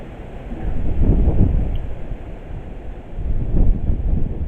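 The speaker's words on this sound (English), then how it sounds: "It is kind of windy" Gusts of wind rumble against the microphone in two swelling bursts, low and blustery, with no speech.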